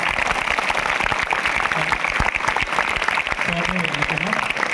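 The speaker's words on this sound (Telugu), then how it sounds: "మంచి గట్టిగా క్లాప్స్ కొట్టండి సార్" Audience clapping at a school felicitation ceremony, a dense steady round of applause close by with a faint voice or tone sounding briefly under it.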